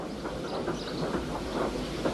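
A small blue tank engine hauls freight cars along a railway line, a steady rolling rumble with rhythmic clattering pulses of wheels over rail joints, moderately loud and close, without speech.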